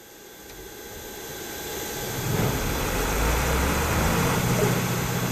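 A ground power unit's engine in AirportSim cranks and catches, then settles into a steady, fairly loud idle rumble that builds over the first couple of seconds, with no voices.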